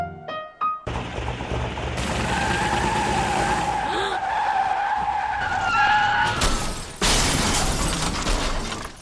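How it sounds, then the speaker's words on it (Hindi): A car at high speed skids on a highway, tires squealing in long wavering tones, then crashes with a loud burst of impact and shattering, the whole event close and intense with no one talking. "इतनी तेजी से गाड़ी को हाईवे पर लाने के बाद क्या इस एक्सीडेंट को रोका जा सकता था?"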